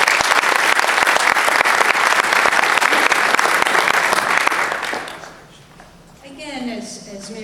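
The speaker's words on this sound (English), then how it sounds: "I think you all deserve a round of applause." Sustained applause from a crowd at a community benefit lunch, loud and dense for about five seconds before thinning out and fading, with a few voices emerging near the end.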